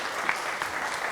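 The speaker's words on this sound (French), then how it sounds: "On va les applaudir s'il vous plaît." An audience at an evening worship gathering with a cantor breaks into steady, dense applause, a continuous wash of many hands clapping at fairly close range with no pauses or voices standing out.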